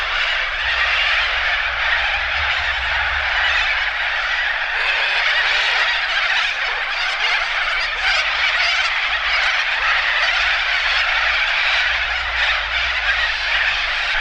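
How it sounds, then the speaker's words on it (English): A large flock of cockatoos screeches and squawks over timbered river water on an overcast afternoon, a dense, unbroken, loud wall of harsh calls from many birds at once. "the cockies are just deafening this afternoon"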